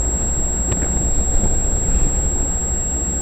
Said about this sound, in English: This train came back from servicing a few industries, and now it's coming back into the yard.